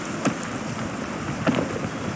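A constant wash of rain hisses in the mountain-climbing game Peak, even and close, broken by a couple of faint brief knocks.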